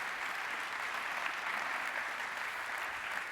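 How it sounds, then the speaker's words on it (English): A conference audience claps steadily for the panelists at a forum opening ceremony, a dense, even wash of applause at moderate distance with no voices over it. "So I would like to ask everybody to give a round of applause to our great panelists."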